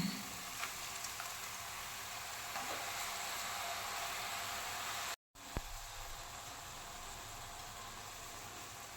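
Soaked rice and mushrooms frying in a pan for a spicy mushroom biryani, a steady close sizzle throughout with a brief gap partway, no voices.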